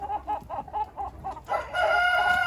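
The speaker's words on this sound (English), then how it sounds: "Pen 1 is for the roosters." Roosters in a backyard coop pen cluck in a quick rhythmic series, then one breaks into a loud, close crow that carries to the end.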